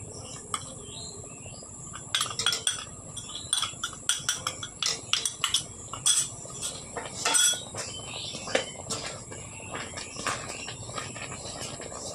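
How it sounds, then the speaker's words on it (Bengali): Milk powder being stirred into a nut and sugar laddu mixture in a pan: a run of close, quick metallic scrapes and clinks of a spoon against the pan, irregular and busy, with a faint steady insect-like background hiss. "এবার অল্প অল্প করে দেবো আর নাড়তে থাকবো, তাহলে দলা পেকে যাবে না।"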